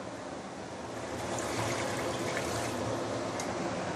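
Hot water poured into a pot of pork leg stewing with sea cucumber, dried herbs, five-spice and Shaoxing wine, a steady soft splashing pour that runs continuously and rather faint.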